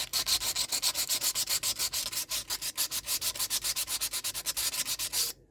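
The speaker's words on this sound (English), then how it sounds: "This is what happens when you start sanding it." Rhythmic, scratchy sanding strokes on a rusty Hyosung Sense motorcycle rim repeat steadily back and forth, close and fairly loud, with no voices.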